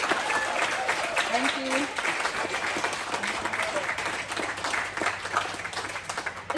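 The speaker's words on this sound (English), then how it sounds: "So can we just give one more massive clap to Pauline for everything she does?" Audience applause at a community crime forum in Cairns, a steady wash of clapping from a crowd lasting throughout, with a brief spoken thanks over it.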